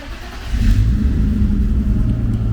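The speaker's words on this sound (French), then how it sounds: "on peut allumer la voiture." A car engine starts and settles into a steady running rumble after a brake fluid bleed, loud and close with no talking.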